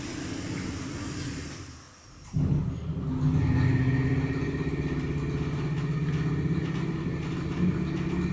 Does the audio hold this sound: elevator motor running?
yes